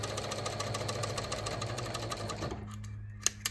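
A sewing machine stitches elastic onto panties in a steady, close, whirring run, then stops abruptly, leaving a quiet hum broken by a couple of small clicks.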